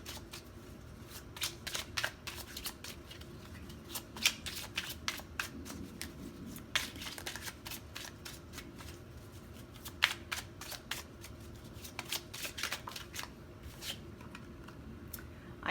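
Tarot cards are shuffled and drawn from a pile, a run of soft, close riffling and flicking sounds with light irregular taps, quiet throughout with no talking.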